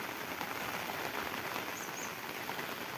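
Heavy monsoon rain pours steadily onto a farm field, a dense, even hiss of drops that fills the whole stretch without a break or any voices.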